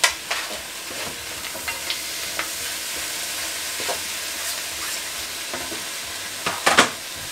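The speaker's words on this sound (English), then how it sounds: "got a whole sort of big mixture of peppers, some courgette and some mushrooms. So yeah, going to get those into the pan" Peppers, courgette and mushrooms fry with onions in a hot pan, a steady soft sizzle with occasional scrapes and knocks as the vegetables are stirred, close up and without speech.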